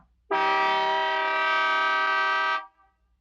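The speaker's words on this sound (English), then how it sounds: "One long honk of the horn." A car horn gives one long, loud, steady honk of about two seconds, close by and on its own, demonstrated in a home driveway.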